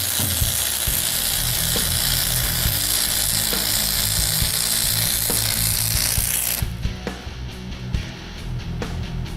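A quick welding pass over a seam on a BBQ pit smoker, steady loud crackling buzz close up that cuts off near the end, leaving quieter clicks and handling noise.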